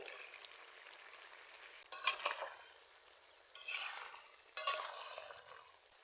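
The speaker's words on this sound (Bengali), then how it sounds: "ভেজে রাখা কাঁকড়াগুলো আমি দিয়ে দিচ্ছি" Fried crabs added to a simmering curry on a village clay stove and stirred in, giving a faint background sizzle broken by three scraping stir bursts.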